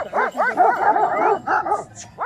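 A dog barks and yips in quick, excited bursts close by, with whiny rising tones between barks.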